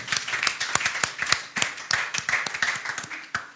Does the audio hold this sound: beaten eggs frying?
no